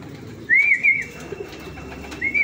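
Racing pigeons coo in a couple of soft, rolling calls close by during training, over a low murmur of background noise.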